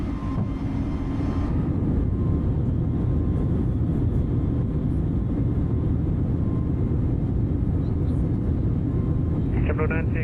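A simulated Airbus A320neo airliner takes off in the flight simulator, giving a steady, loud engine roar with a brief mechanical whir near the end as the gear retracts, with speech underneath.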